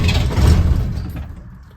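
Diesel 1976 Land Rover Series 3 88-inch engine cranking and catching on a cold start after glow plugs, a loud rumbling low burst that settles and fades within two seconds.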